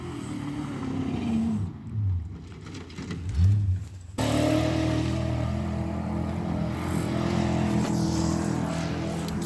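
A Ford Super Duty truck tears around on dirt, its engine roaring loud and close in a steady drone with a brief swell and dip before a sudden jump back to full, continuous rumble.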